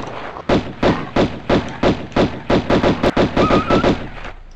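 Pistol fire in the 1996 game Tomb Raider I, set in its Peru level: about sixteen sharp, punchy shots, evenly spaced at first and then coming faster, each one a loud thudding crack, with a brief in-game tone near the end.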